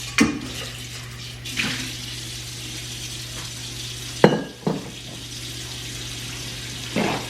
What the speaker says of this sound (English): while I clean my bowl out